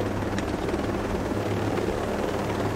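Helicopter in the video game Ghost Recon Breakpoint, its rotor thrumming loudly and steadily close by with no talk over it.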